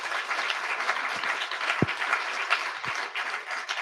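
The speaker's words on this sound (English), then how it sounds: "a big round of applause" An audience applauds a panel at the close of an International Women's Day event, producing steady, dense clapping throughout, with a few sharper individual claps standing out.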